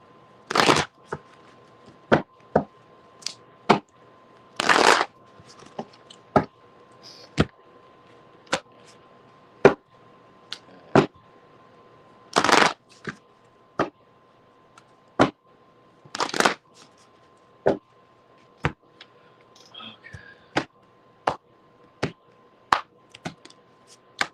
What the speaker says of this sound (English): Let me get a quick shuffle.